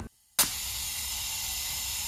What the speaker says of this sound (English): Man, that thing's, it's the modulator leaking.